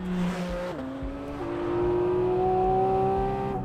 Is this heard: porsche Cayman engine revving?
yes